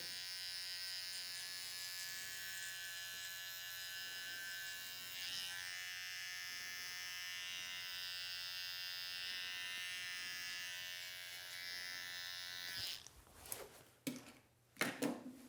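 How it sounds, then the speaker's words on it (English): A JRL electric hair trimmer buzzes steadily and close for about thirteen seconds during neck trimming at a barbershop, then cuts off into a few soft handling clicks and knocks. "JRL trimmer."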